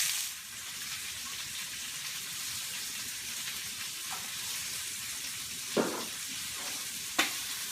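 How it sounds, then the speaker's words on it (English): Rabbit loins and meat pieces browning in a pan give a steady, even sizzle throughout, with two sharper crackling pops late on and no voices. "So we'll brown both sides"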